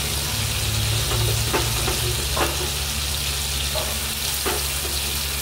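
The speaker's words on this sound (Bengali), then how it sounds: "কেটে রাখা পেঁয়াজগুলো ছেড়ে দেবো।" Chopped onions fry for a chicken curry, filling the clip with a loud, steady, close sizzle and occasional stirring taps, with no talk.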